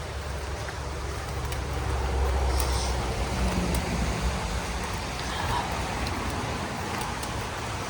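Light rain sprinkling outdoors on the Appalachian Trail in Pennsylvania, a steady soft hiss blended with gusty wind noise, continuous and close, with no one talking.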